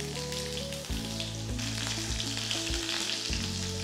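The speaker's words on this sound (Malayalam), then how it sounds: "ഗോൾഡൻ ബ്രൗൺ കളർ ആകുന്ന വരെ ഫ്രൈ ചെയ്തെടുക്കുക" Sliced shallots fry in hot oil with mustard and fenugreek seeds for a coconut fish curry, giving a dense, steady sizzle that runs the whole time beneath background music.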